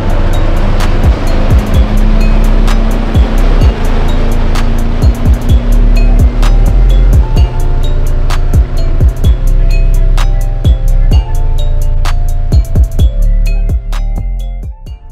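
Big outboard motor of a crappie fishing boat running loud and close on the water, a continuous engine roar with repeated thumps and splashes as the hull slaps the waves, no talking.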